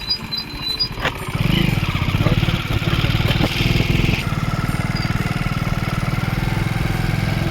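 Motorcycle ridden on a rural road, its engine revving up and then holding a steady, close, rumbling drone throughout.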